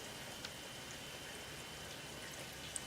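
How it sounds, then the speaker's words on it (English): Rain in the video game Satisfactory, a steady soft hiss of falling drops with a couple of faint tiny ticks, quiet and continuous with no talk. "Can I disable the rain?"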